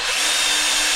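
A power drill whirs steadily at close range while working on a boat's hull core, a loud continuous high whine with no pauses.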